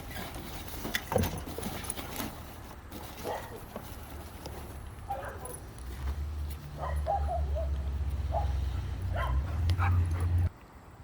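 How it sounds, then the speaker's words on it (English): Excited dogs bark and yip indoors in a home as a delivery truck pulls in, with short bursts and whimpers scattered over a steady low engine rumble that swells toward the end and then cuts off. "the dogs were getting excited"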